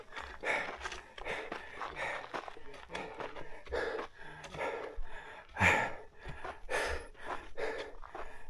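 A dog pants and snorts close by during an overnight hike on Acatenango Volcano in Guatemala, with quick irregular breaths, gasps and sighs.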